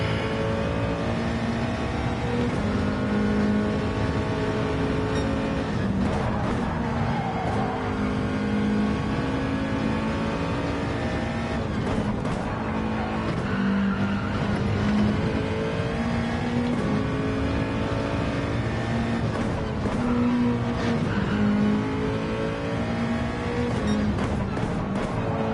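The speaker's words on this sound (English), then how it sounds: "This will be where my tyres start to struggle." Simulated race car engine in a racing video game droning and revving continuously as the tyres lose grip, with shifting pitch and occasional sharp changes.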